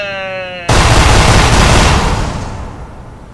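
A tonal beep gives way to a loud blast from the Australian Hailfire rocket and grenade launcher in Team Fortress 2, then a dense crackling roar that slowly fades out.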